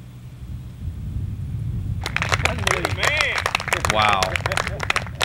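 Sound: golf tournament crowd cheering and applauding

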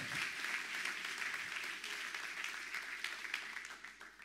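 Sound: congregation applause

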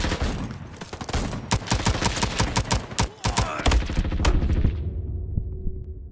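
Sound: pistol shots in Roblox video game Frontlines

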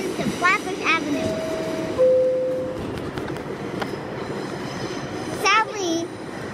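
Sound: New York subway 5 train to Flatbush Avenue

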